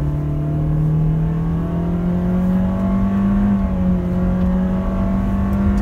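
A 2017 Toyota Altis accelerates at full throttle, its engine note rising steadily and loud in the cabin throughout, with no talk over it.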